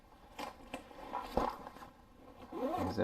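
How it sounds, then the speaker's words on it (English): A UTG Alpha Battle Carrier gun bag holding an AR pistol is zipped shut, a short run of close zipper rasps and scrapes, with a longer steady pull at the end. "And zip it up."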